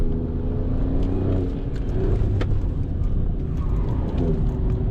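Alfa Romeo Giulia Quadrifoglio at full throttle on a racetrack, its engine roaring steadily and loud throughout, with a rising pitch sweep and tire and wind noise mixed into the drone.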